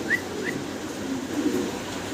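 A male pigeon coos in a low, soft, rounded murmur close by, under a faint hum of background noise and a couple of brief higher bird chirps.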